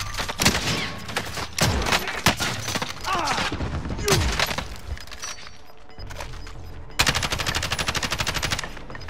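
Rapid gunfire from a Call of Duty Modern Warfare match, with automatic bursts and single shots coming in clusters and ending in a long sustained burst.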